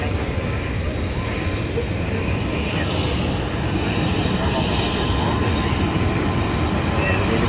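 An airplane passes overhead near the Las Vegas sign outdoors, a steady broadband roar filling the whole stretch with slight swells, while people chat nearby.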